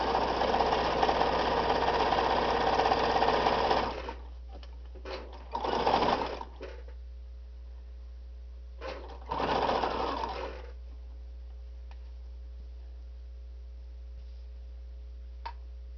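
Sewing machine stitching fabric, running steadily for about four seconds, then two short bursts as the fabric is turned, with a low constant hum underneath throughout.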